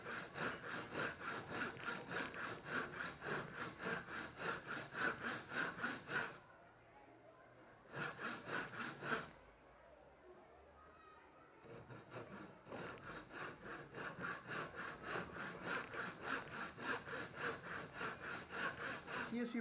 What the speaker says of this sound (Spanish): es importante que el serrucho vaya y venga en una horizontal, que no cabecee, y usar toda la hoja del serrucho